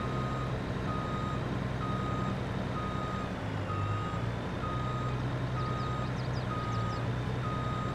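Truck reversing beeps from Farming Simulator 22: a steady, evenly spaced electronic beep repeats throughout over a continuous low engine drone, with no talking.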